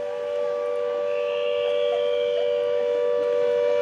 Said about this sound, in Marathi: पुण्यामध्ये आता मॉक ड्रिल घेतलं जातंय। सायरन वाजवला जातोय।